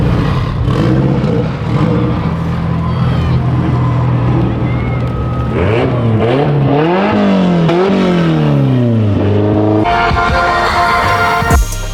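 A car engine revs hard and climbs through the gears at Fuel Fest, loud and close, pitch sweeping up and down repeatedly as it drives away, with wind noise and a sharp bump near the end.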